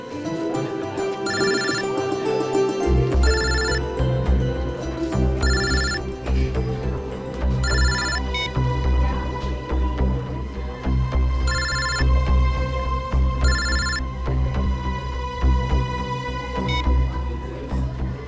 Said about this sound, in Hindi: कौन बार बार फोन कर रहा है?